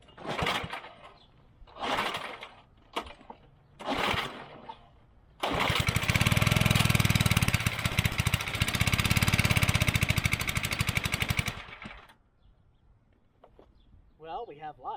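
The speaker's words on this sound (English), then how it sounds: "let's turn the key and let's see if we can't get this thing started" An old John Deere 56 lawn mower engine cranks, then fires and runs loudly for about six seconds with a rough, steady drone before dying away. Short bursts of speech come before and after the run.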